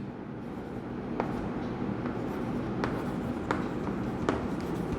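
Pen or chalk writing by hand during a Class 10 quadratic equations maths lesson, a soft steady scratching with a few sharper taps, close and quiet, with no talk over it.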